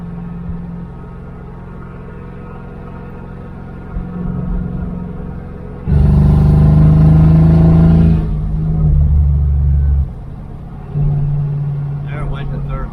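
A 1978 Dodge Aspen R/T engine rumbles at idle, then surges loudly as the car accelerates and the automatic transmission shifts into third, before dropping back to a steady drone. Someone talks over it.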